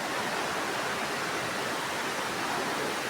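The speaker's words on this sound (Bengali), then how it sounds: "ঢাকায় প্রচণ্ড বৃষ্টি।" Heavy rain pours down in Dhaka, a dense, steady hiss that stays constant and loud throughout.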